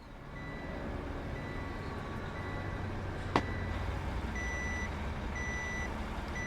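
Reversing beeps from a truck in the game Yakuza: Like a Dragon, a steady repeating electronic beep over a low engine rumble, with one sharp click midway and no talking.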